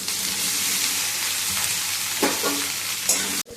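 Boiled potatoes frying in oil with cumin in a wok make a loud, constant sizzle, with a few scraping stirs toward the end and a sudden stop, no speech.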